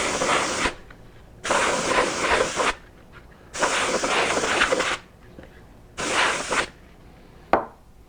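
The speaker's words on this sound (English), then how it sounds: "Air in a can." Canned air sprays onto a pallet wood vase in four loud, close hissing bursts of a second or so each, separated by short pauses, ending with a brief click.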